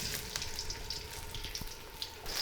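Chopped onion fries in hot oil in a karahi, a steady soft sizzle with scattered small pops and crackles, fairly quiet and with no one speaking.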